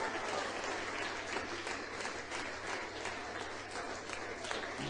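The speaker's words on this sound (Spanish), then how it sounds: "den un aplauso más fuerte al Señor" A church congregation applauding during a Spanish-language service, steady continuous clapping from many hands heard from a distance and fairly quiet throughout.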